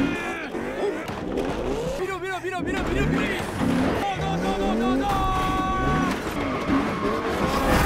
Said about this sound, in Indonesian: Mobil gangster ini terbalik.